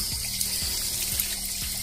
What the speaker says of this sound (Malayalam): ഈ ബെയറിങ് കാര്യങ്ങളൊക്കെ നമുക്ക് ഇതേപോലെ തന്നെ കഴുകി വൃത്തിയാക്കി എടുക്കാം